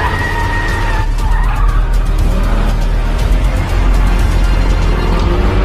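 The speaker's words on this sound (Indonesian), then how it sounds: "Alice dengan mobil bagusnya menyenggol Licker hingga terhempas" A car swerves hard with loud tire skidding and revving engine, sustained screeching close up, from a zombie action film scene where the car strikes a creature.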